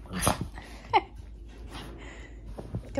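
Dogs playing indoors, with close yips and a short whimper over scuffling and panting, in a brief, uneven burst of activity.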